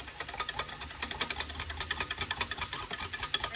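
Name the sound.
whisking sauce in a bowl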